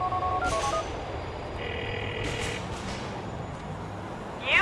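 A telephone is dialed in the GTA IV video game: a few quick DTMF keypad tones come first, then longer steady tones and faint background hiss, ending in a brief brighter chirp.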